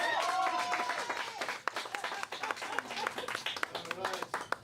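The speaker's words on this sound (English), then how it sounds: "Everyone clap for Mom." Audience clapping at a live talent show, a scattered patter of hands with sharp individual claps, mixed with crowd noise and voices talking over it.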